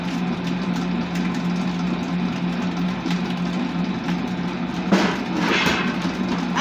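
An electric mixer whirs steadily at high speed with a constant motor hum and a rattling buzz, rising in a brief louder burst near the end.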